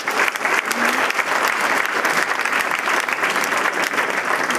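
An indoor audience at a mayor's New Year address applauds a young local music group with sustained, dense, loud clapping that keeps a steady level from start to finish.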